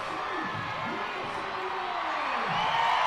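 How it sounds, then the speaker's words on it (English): Baseball stadium crowd cheering in a broad, steady roar that swells toward the end, with scattered whoops and an announcer talking over it. "There's the cheer."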